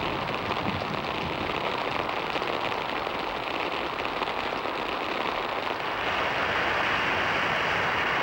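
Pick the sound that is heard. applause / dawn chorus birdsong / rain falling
rain falling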